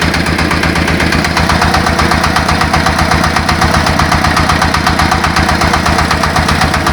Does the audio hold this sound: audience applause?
no